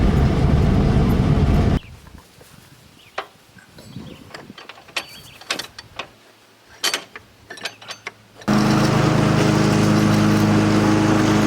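Lawn mower running loud and steady at the start and again at the end, with quieter clanks, knocks and mechanical handling noises in between.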